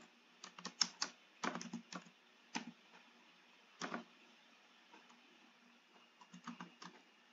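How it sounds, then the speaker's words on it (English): Computer keyboard typing while entering a search term on a genealogy website, with short irregular bursts of crisp clicking keystrokes separated by brief pauses, close and fairly quiet with no talking. "So let me type in draft"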